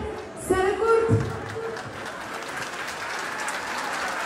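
Applause from a concert audience at a show in Çorlu, rising in a brief burst of clapping near the start, then fading to a steady crowd hum while a voice briefly speaks over it.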